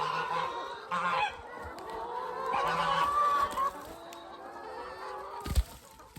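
Poultry in a barn bedded with wood chips honk and cluck in a loose chorus, several birds calling over one another at a moderate distance, with a sharp knock near the end.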